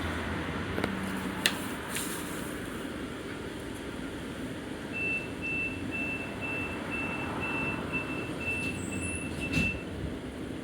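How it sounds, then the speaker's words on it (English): A London tram sounds its door-closing warning on the Beckenham Junction to Wimbledon route, a rapid, evenly spaced string of high electronic beeps lasting several seconds over the low hum of the stationary tram, with no voices. "the doors are automatically closing"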